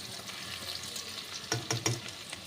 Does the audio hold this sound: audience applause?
no